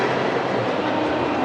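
A train rumbles at a large railway station in Kawasaki, Japan, giving a steady, dense roar of rolling wheels and machinery, fairly loud and continuous with no talking.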